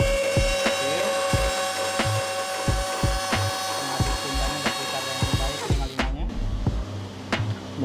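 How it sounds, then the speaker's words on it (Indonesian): The five-colour mixer of a DT43 TSR Zeta machine being test-run before shipping: a steady mechanical drone broken by repeated irregular clacks and knocks, loud and close, with no talk. "Pertama kita hidupkan mixer 5 warnanya."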